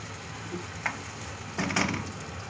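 Chopped onion and tomato sizzle gently in a pot as the base for a Turkish tomato pilaf, with a soft, steady frying hiss and a few stirring clinks, fairly quiet and close.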